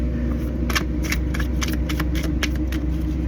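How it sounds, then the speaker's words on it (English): Tarot cards riffled and shuffled in quick bursts of crisp flutters, repeated several times over a steady low rumble in the background. "Shuffle a few more times."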